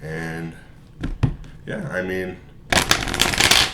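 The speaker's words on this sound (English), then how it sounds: "So right now I'm just giving the cards a good shuffle." Tarot cards being shuffled by hand, a quick burst of riffling papery flutter at the end after a few soft taps, close up, with someone talking beforehand.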